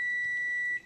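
A kitchen timer sounds during candied strawberry making, a steady, piercing electronic tone held almost without a break, then cutting off near the end.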